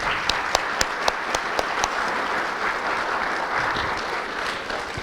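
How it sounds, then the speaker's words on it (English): A concert audience applauds the performers with sustained, fairly close clapping, a few sharp individual claps standing out at the start, no voices on top. "let's just give a big round of applause for all the performers and the families"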